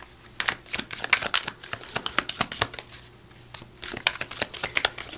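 Oracle cards are shuffled by hand in a quiet room, giving a rapid run of papery flicks and riffles that pause briefly and then pick up again.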